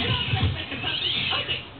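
Several cartoon cats meow and mewl in a cluttered home in a My Little Pony: Friendship is Magic episode, overlapping cries under a music bed, fairly close and moderately loud.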